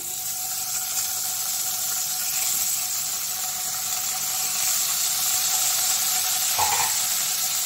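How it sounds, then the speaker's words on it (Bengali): Paneer frying in butter gives a steady, fairly loud hiss and sizzle, continuous and unbroken, with a brief squeal partway through and no talk. "বাটারটাতে পনিরগুলো দিয়ে দিচ্ছি।"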